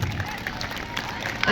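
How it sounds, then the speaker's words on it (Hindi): A crowd at a school annual exhibition claps for the children, a short burst of dense applause mixed with voices, swelling louder at the very end. "एक बार बच्चों के लिए जोरदार ताली बजाइए"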